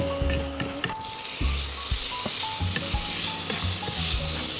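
Pork sizzles steadily in a hot pan while a spatula stirs it, scraping and knocking against the metal. The frying hiss is loud and close throughout with no speech.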